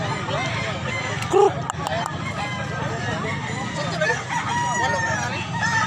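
A rooster crows clearly once amid a busy outdoor gathering of quality fighting roosters in Mantalungon, Barili, Cebu, with other fowl calling faintly and people talking throughout in the background.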